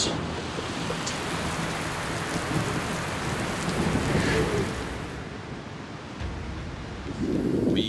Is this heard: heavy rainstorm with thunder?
yes